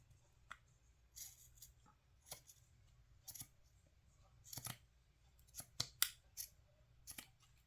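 Old scissors snip through paper in a dozen or so separate, crisp cuts, some in quick pairs, close by and quiet, with no talking.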